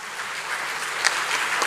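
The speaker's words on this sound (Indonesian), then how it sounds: "Lihat tepuk tangan sejati untuk Tuhan Allah" An audience claps at a comedy roast event, a brief, steady wash of applause that swells slightly toward the end.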